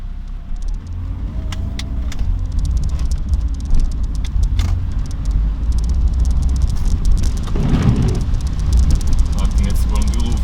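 An Alfa Romeo 33 with poorly aligned steering is driven through heavy rain. A steady, low engine and road rumble from inside the car holds throughout, with a brief surge of noise near the end and some talk over it.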